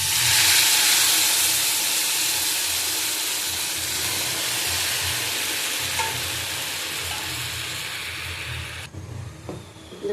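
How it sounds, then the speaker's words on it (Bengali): Red lentil dal boiling in a pot over onion, garlic, chilli and bay leaf fried earlier, giving a steady, loud hissing bubble that fills nearly ten seconds before cutting off abruptly near the end, leaving faint clinks. "দেখো ডালটা ফুটে গেছে।"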